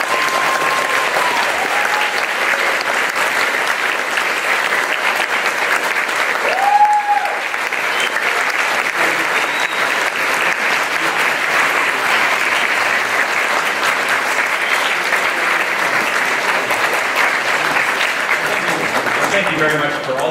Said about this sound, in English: please applaud these lovely...